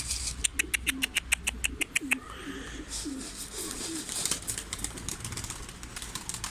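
Young pigeons in flight training make a rapid run of wing claps and flapping, with soft coos beneath, then fainter fluttering and rustle continue nearby.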